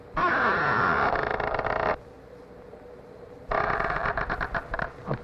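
A rubbed balloon imitates a creaking door. Two long, loud, rasping squeaks are separated by a short pause, with no voices.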